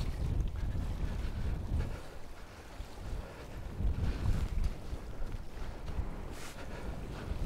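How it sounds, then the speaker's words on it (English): Strong wind buffets a microphone fitted with furry windshields at Stithians Dam, making a continuous loud rumbling roar that surges and eases in gusts, with no voices. "We know we've got the dead cats, but there's only so much you can do with wind like this."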